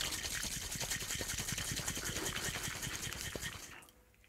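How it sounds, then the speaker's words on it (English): A cocktail shaker holding an egg white drink is shaken hard and fast for several seconds, giving a dense run of rattling and sloshing hits that stops abruptly near the end. "Right, so hard, fast shake again, 5 seconds."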